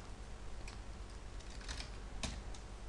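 Computer mouse clicks on targets on a screen: a few faint, sharp ticks scattered over a quiet, hissy background, with no speech.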